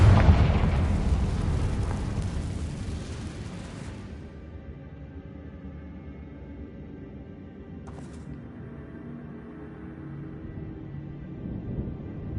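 A Confringo blasting spell explodes in the Hogwarts Legacy video game: a loud, broad blast rolls and fades over a few seconds, then a quiet rumbling ambience with one short, sharp crackle midway.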